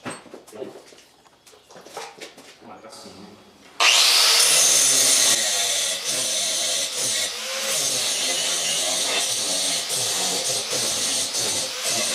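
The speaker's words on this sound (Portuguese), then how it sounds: "agora eu só dou um desbaste ali com a lixadeira e tá pronto" A power grinder whirs into a loud, steady, harsh grinding against a metal tube after a few seconds of quieter clatter, continuing without pause.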